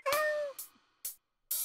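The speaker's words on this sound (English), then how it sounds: "Yes, it's cat meows." A cat in Animal Crossing lets out one long, clear meow followed by a few shorter, quieter meows separated by brief silences, heard close and on its own.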